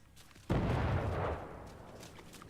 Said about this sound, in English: See, you hear that explosion?